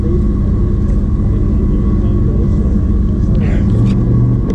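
Porsche Carrera GT with its V10 engine at a supercar gathering in Chicago: a loud, steady, dense engine rumble fills the whole stretch, with a faint murmur of voices under it.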